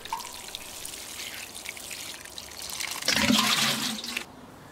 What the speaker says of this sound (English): Finally, give the plant a good soaking.